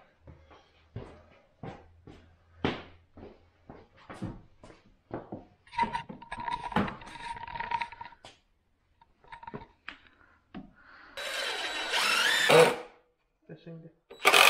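A power sander buzzes in a short steady burst against homemade wooden furniture, following a stretch of people talking accompanied by scattered clicks and knocks.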